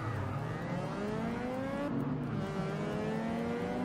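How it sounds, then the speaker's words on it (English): Rotary-engine race car at Daytona at night in Forza 6, revving steadily higher through the gears from a standing start on the banking, a buzzing whine climbing in pitch and heard alone. "Oh, the sound of that rotary engine."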